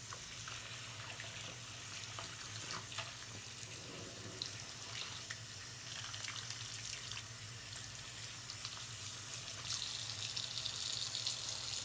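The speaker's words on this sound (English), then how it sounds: "I'm gonna let this water out and give it a rinse here." A tap runs steadily into a sink while water drains, as a Bratz doll is rinsed during a restoration cleaning. The rushing flow is continuous, fairly faint and close, with no voices.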